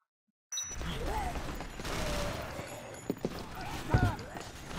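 Gunfire aimed at the player in Dead Rising comes as a busy stretch of scattered shots and impacts over steady game noise, with a couple of sharper, louder bangs toward the end.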